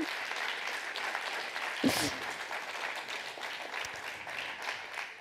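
Audience applause in a hall after a lecture on nuclear medicine for cancer treatment: steady, moderately distant clapping throughout, with one brief louder knock near the two-second mark.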